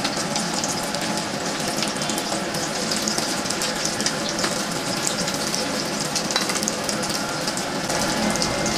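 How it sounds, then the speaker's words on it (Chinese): Small fish refried in smoking-hot oil over high heat, a steady dense sizzle and crackle running without pause and without voices. "加入炸好的鱼仔，高温大火复炸30秒"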